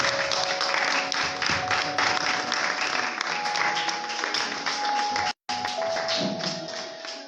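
A church congregation claps in sustained, dense applause for several seconds, with a brief cut before the clapping resumes and slowly fades.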